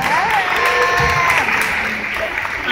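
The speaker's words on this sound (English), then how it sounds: "a warm round of applause." A crowd claps steadily in warm applause, with a voice carrying over it and some cheering mixed in.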